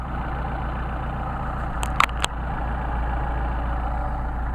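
A warm engine with Solex carburetors idles steadily and evenly, a continuous low rumble close by, briefly interrupted near the middle by a few sharp clicks or taps before the smooth idle resumes.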